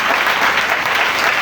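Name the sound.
congregation applauding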